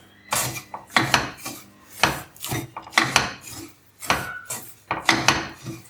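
Semolina (rava) for rava idli being stirred and roasted in a pan still hot after the stove is switched off. Close, fairly loud, rhythmic scraping strokes repeat about a dozen times, with no talking.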